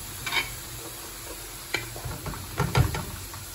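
Manzanilla wine poured into a hot paella pan for black rice with cuttlefish and mussels, hissing and sizzling under a steady scrape of stirring, with louder clatter and bubbling toward the end.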